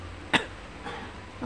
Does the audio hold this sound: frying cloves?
no